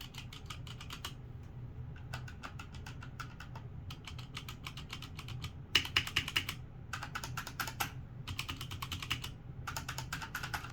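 Fast keystrokes on a HyperX Alloy Origins mechanical keyboard with red switches, clicking in quick bursts separated by brief pauses, close and fairly quiet.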